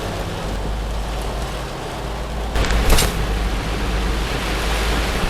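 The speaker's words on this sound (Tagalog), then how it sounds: "habang maulan at medyo dahan-dahan lang ang andar natin kasi madulos ang kalsada" Steady rain hisses over a slow-moving vehicle on a slick road, a dense wash of noise with a low road rumble underneath and a brief louder splash near the middle.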